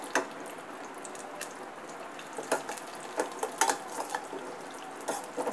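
Dry fruits for sheer khurma fry in a pan with a soft, continuous sizzle, broken by small clinks and scrapes of a spoon stirring against the metal.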